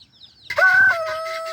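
A rooster kept in a coop lets out a short, loud, close crow with a strong held tone after a faint higher chirp, and other chickens cluck around it.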